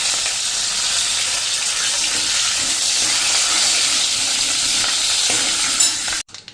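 Curry leaves sizzling in hot oil on a medium flame, a loud close and constant spitting hiss that breaks off abruptly just before the end.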